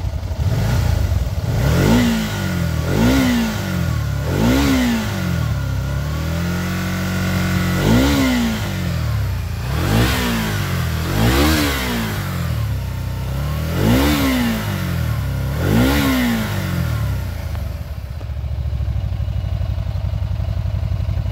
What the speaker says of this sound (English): I'm gonna give it a few revs and let you hear the motor sounds.